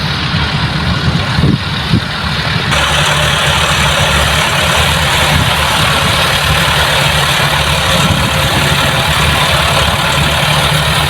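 A tractor engine runs steadily while dumping soil at a riverside park worksite on the Ravi, a loud continuous diesel drone with a low rumble and little variation, a brief knock early on.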